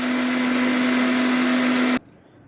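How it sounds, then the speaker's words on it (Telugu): A mixie blender whirs steadily at full speed for about two seconds, blending coffee with sugar, with a strong constant motor hum, then cuts off abruptly into quiet room tone. "బాగా మిక్సీ పట్టుకుందాం"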